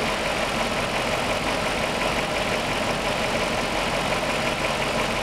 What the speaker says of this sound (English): We have a misfire on number 6 cylinder.